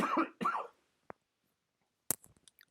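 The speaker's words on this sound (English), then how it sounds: "And I'm going to cough." A single cough from someone on a live fiber-arts and cross-stitch broadcast, sharp and close, followed by a brief throat-clearing rasp and small mouth noises after a short silence.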